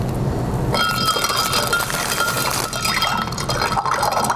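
Spoon clinking and swirling inside a pitcher as honey is stirred into a drink, bright repeated clinks over sloshing liquid, close and moderately loud, no talking.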